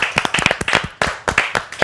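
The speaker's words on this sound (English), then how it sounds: "Put our hands together for a big round of applause for the winners so far." A small audience at a design awards ceremony claps for the winners, close, uneven hand claps in a brisk rhythm with no talking over them.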